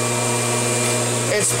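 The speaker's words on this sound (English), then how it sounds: "when my vacuum goes over that" A Kirby vacuum cleaner running over a floor with a loose, jumpy subfloor, giving off a steady close motor hum with a strong tonal whine and a brief bump near the end.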